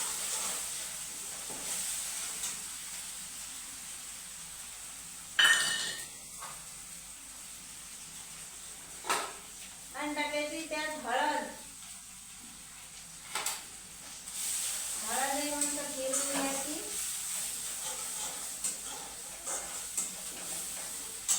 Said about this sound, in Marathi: हिरव्या मिरचीचा ठेसा मस्त करून घ्यायचं तेलात